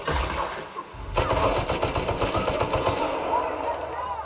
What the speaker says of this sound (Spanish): Voy a seguir pegando tiros